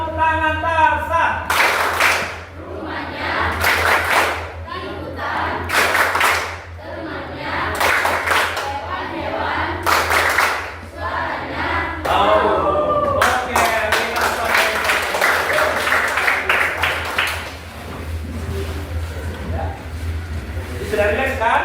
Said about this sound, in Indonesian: Tepuk tangan Tarzan.